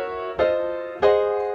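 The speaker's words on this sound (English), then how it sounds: "These dominant chords sound like this." Dominant seventh chords played one after another, two crisp strikes each left to ring and fade, close and alone without voices.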